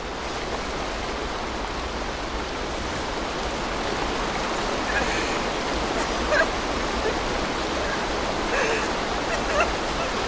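Waterfall in the video game A Quiet Place: The Road Ahead, a steady, dense rush of falling water filling the whole clip at an even level, with a few faint brief sounds near the end.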